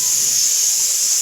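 A pressure cooker cooking vegetables lets out a loud, steady, close-up hiss of escaping steam that holds unbroken for about a second.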